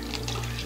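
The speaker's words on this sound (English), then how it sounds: "now we're just going to squeeze all that excess water" Excess water squeezed by hand out of paper mache pulp, a brief, close dribbling pour that lasts well under a second.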